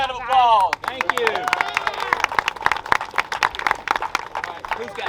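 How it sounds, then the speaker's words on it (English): Applause and scattered cheering from a crowd at an outdoor car show awards gathering in a parking lot, a steady stretch of clapping right after a short voice at the start. "how about a round of applause?"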